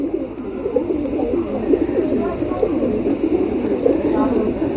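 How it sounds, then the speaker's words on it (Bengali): A black-necked male pigeon coos in a low, continuous warble with other birds murmuring nearby, close and fairly loud throughout. "কালো গলা একটা কবুতর আছে নর ঠিক আছে কালো গলা কবুতর নর কবুতর"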